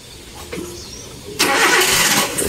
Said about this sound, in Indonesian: menghidupkan mesinnya dulu